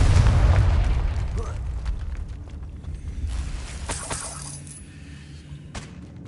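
A Confringo fire spell bursting in the Hogwarts Legacy video game: one loud, deep boom at the start that rumbles and crackles as it fades over several seconds.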